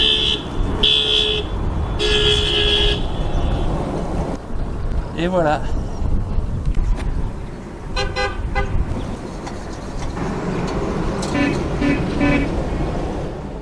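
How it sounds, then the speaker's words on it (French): Car horns honk repeatedly on a street in Armenia, several short and long toots from different vehicles over steady traffic noise, with people talking briefly. "Ils klaxonnent pour l'église."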